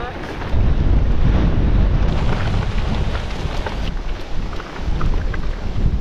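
Heavy wind buffets the microphone of a gravel bike rider on a long 80 km ride, facing a headwind on a climb. The roar is loud and continuous with gusty surges throughout.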